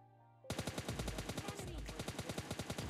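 Gunfire in the mobile battle royale game PUBG Mobile Lite erupts suddenly and continues as loud, rapid automatic fire with evenly spaced shots, close and unbroken for nearly three seconds.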